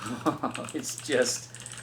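Clicky keystrokes on a Razer BlackWidow V3 mechanical gaming keyboard in its Halo Infinite edition, a quick irregular run of close, moderately loud taps over a low steady hum.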